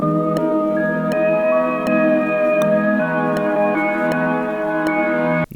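A lo-fi sample treated with RC20, vinyl crackle, a filter and reverb: sustained warm chords with steady, evenly spaced clicks running through, loud and close, ending abruptly.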